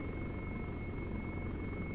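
A helicopter heard from a distance gives off a steady, continuous engine and rotor drone with a faint whine, even and unbroken throughout, with no voices.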